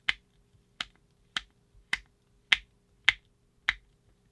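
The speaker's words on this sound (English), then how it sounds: "You can dial the head up and down. Good, nice, positive clicks." Seven crisp, evenly spaced clicks from the rotating head dial of a Brinyte Artemis hunting light, each sharp and close with brief silence between, a positive detent click repeated roughly every half second.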